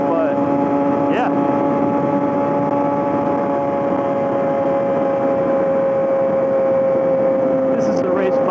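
Yamaha R6 race bike fitted with a full M4 exhaust system while riding, a steady droning engine note with wind rush throughout and faint rising rev sweeps near the start and end.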